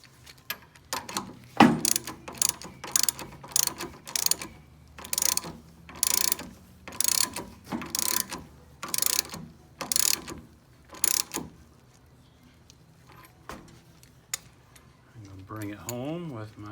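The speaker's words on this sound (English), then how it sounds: "Go ahead and snug it down with my regular ratchet." A regular ratchet snugs down a 3/4 inch tie rod nut, giving bursts of rapid clicking at a steady rhythm close up, followed by a brief voice at the end.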